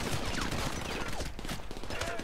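Rapid gunfire from a firefight in the video game GTA 5, dense bursts of shots crackling through most of the moment, with someone talking over the battle noise.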